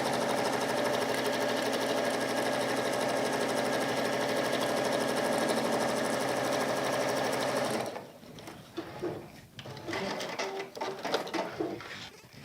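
A sewing machine runs steadily while stitching down a fabric pouch, a loud continuous mechanical whir that stops abruptly about two-thirds through, leaving faint handling clatter and rustling.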